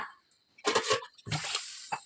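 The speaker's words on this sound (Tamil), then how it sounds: "நான் ரெண்டு கப்பு அரிசி எடுத்திருக்கேன் நாலு கப்பு தண்ணி சேர்த்துக்கிறேன்" Water is poured into a cooking pot holding rice and masala for prawn rice, heard as two close, splashy bursts of pouring separated by a brief pause.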